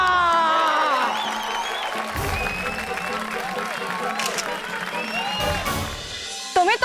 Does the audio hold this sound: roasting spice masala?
no